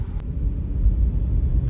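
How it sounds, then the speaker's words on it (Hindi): A Maruti Baleno car drives through a tunnel in the hills near Dehradun, carrying a heavy load. A steady, close, low engine and road rumble fills the interior, with no talking. "आवाज सुन रहे थे हम गाड़ी की"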